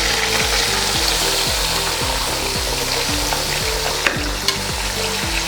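Two kilograms of camel meat sizzles and fries steadily in a karahi, with a loud continuous crackle and a recurring rhythmic scraping of stirring throughout, a couple of sharper clicks near the end.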